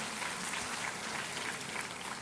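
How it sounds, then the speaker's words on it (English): Audience applause welcoming industry guests at a university industry–institute event, a steady, dense round of clapping from a large hall, moderately distant and even throughout the short clip. "We heartily welcome all the titans of the industry with a round of applause"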